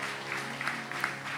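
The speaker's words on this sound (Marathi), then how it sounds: "मला वाटतं या सगळ्यांसाठी आपण एकदा टाळ्यांचा गजर करूया." An audience at a Marathi theatre music programme breaks into applause, a dense, continuous patter of many hands clapping together through the whole short stretch with no voices over it.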